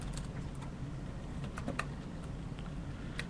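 Typing names into a computer keyboard, a steady patter of light key clicks at close range with a few sharper taps, no speech over it.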